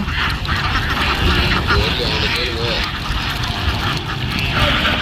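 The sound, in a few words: ducks quacking on a duck farm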